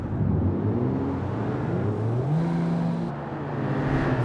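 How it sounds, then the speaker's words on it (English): A Toyota Supra roars past at about 90 mph in the BeamNG.drive game, a loud continuous engine drone with shifting tones that rises and swells over a few seconds, heard alone. "the blue car roared past him at an alarming 90 miles per hour"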